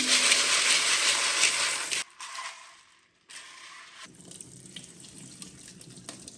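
Water gushes strongly from a kitchen tap into a pot for soaking beans, then cuts off abruptly. A brief quiet follows before softer trickling and clinking continue close by.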